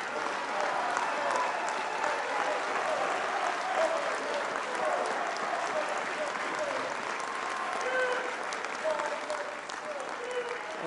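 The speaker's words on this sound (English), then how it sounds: "Let's give a round of applause to the Honorable Minister Louis Farrakhan for that wonderful message" A large audience applauds Minister Louis Farrakhan at a funeral service, a steady, even wash of clapping heard from a distance that holds throughout and fades slightly toward the end.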